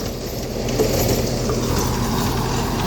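A Sonalika 75hp tractor driving through a brushy field, its engine giving a steady, continuous mechanical rumble and drone at moderate distance, with no talk.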